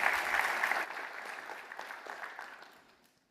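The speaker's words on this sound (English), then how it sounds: "maybe one last round of applause to thank Zach" A conference audience at a data engineering event in Sydney claps for a departing speaker, a brisk burst of applause that thins out and fades to silence within about three seconds.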